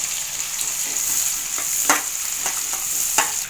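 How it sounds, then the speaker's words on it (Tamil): Onion frying in oil with bay leaf, cloves and cinnamon for a prawn gravy, a loud bright continuous sizzle punctuated by several quick stirring scrapes, no voices. "வெங்காயம் போட்டுக்கலாம்."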